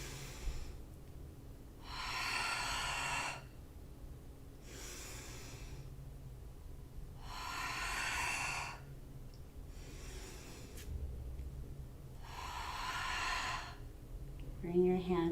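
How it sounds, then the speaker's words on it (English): Slow, deep yoga breaths alternate steadily, each soft airy inhale or exhale lasting over a second with quiet pauses between, close and breathy over a faint low hum. "Inhale, draw into your heart. Exhale, push."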